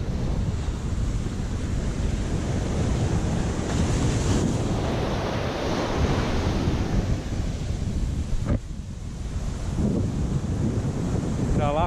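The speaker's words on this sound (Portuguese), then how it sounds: "Marzão bonito, os coqueiros e a praia." Ocean surf on an overcast beach lined with coconut palms at Prado, Bahia, makes a constant rushing roar of breaking waves, mixed with heavy wind buffeting against the microphone throughout.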